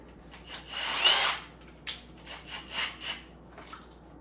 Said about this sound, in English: drill a hole right here, see where it comes out